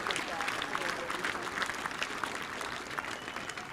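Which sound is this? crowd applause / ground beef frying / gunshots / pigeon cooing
crowd applause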